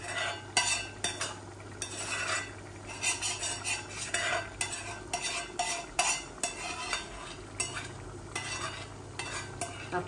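Fish going into a frying pan of half-cooked taro, with repeated spoon scrapes and clinks of stirring over a low sizzle, rhythmic and close.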